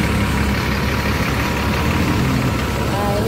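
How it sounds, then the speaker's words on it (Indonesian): A luxury executive coach bus idles with its engine running steadily, giving a continuous low rumble and hum, close and even in level, with no distinct revving. "ini suara mesinnya masih garing dan bagus teman-teman ya"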